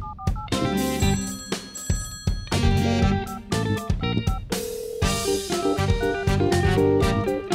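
A telephone bell rings loudly in repeated bursts with short gaps in a Polish feature film, its bright metallic tone standing alone with no talk over it.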